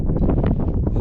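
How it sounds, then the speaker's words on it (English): Strong wind gusts buffet the microphone at a mountain saddle in Kakwa Park, British Columbia, a loud continuous rumble with rough, pulsing surges and no voices. "Very windy."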